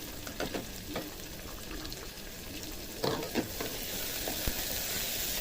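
Ginger, garlic, onion and chopped chili fry in a pan for a rajma dal curry, a soft, steady sizzle with occasional sharper spatter and stirring knocks, fairly quiet overall.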